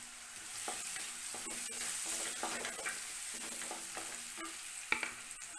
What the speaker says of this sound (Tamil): இப்போ இதே எண்ணெயில் ஒரு பெரிய வெங்காயம் பொடியாக அரிஞ்சு போட்டுக்கணும்.